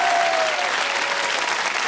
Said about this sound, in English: a huge round of applause from the audience.